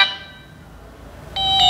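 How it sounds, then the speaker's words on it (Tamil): A Lava button mobile phone plays its ringtone, a thin electronic tone fading out, then bright beeping notes starting again loud and close. "இது இந்த ரிங்டோன் ஒன்று"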